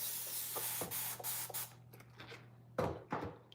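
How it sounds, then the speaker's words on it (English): A series of short spray bursts of heavy duty cleaner from a pump bottle, close up and fairly quiet, with a faint hum underneath. "I'm gonna spray the heavy duty on that one."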